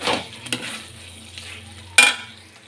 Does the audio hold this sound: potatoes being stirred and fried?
yes